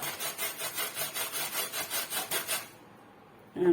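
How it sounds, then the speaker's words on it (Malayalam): Beetroot finely chopped for pachadi, a rapid run of about a dozen rhythmic scraping chops close by, then a pause before one more cut. "ഇതേ വെച്ചെല്ലാം അരിഞ്ഞെടുക്കട്ടെ"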